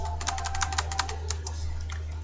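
Code is typed on a computer keyboard in a quick run of light, close key clicks that thin out toward the end, with a steady low hum underneath.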